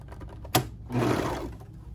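A sewing machine runs a seam around a kimono-style sleepwear sleeve, a short sharp click followed by a steady whirring burst of stitching for about a second, close and moderately loud.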